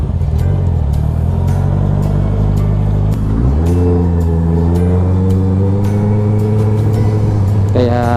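A tuned motorcycle with an Akrapovic muffler, titanium sprocket and velocity stack idles with a deep, even burble, then revs up and holds a higher drone, with a second quick rev at the end.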